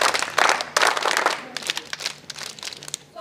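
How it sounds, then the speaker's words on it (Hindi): A crowd claps to welcome a guest, an MLA arriving at a college in Semari, with uneven bursts of clapping that thin out into scattered, irregular claps. "स्वागत, ताली बजा।"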